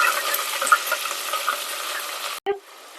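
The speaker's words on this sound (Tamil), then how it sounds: "இப்போ நான் வெங்காயம் சேர்த்துக்கிறேன்" Onions fry in a pan for a vegetable curry, giving a steady, close sizzle with faint stirring that cuts off abruptly near the end.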